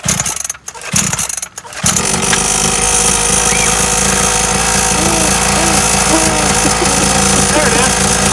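A Syxmoto Holeshot 50cc kids' dirt bike engine that has sat unused through cold weather idles steadily and close by, a continuous buzzing drone that takes over after a couple of seconds of brief rustling and voices.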